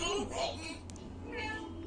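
An animated cat meows, a short high-pitched cry sitting under steady voices talking nearby, with a low continuous hum beneath.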